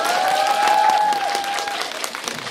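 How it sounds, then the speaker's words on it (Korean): Brief applause from a cinema audience at a Se So Neon live stage greeting, lively clapping that builds and then thins, with a tone ringing over it at first. "수현 씨에게 박수 한 번"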